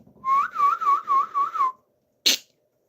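A person whistles a quick warbling run of about five rising notes, loud and close, as a call for a pet guinea pig, followed after a short pause by a single sharp sneeze.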